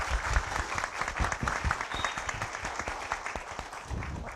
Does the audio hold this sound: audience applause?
yes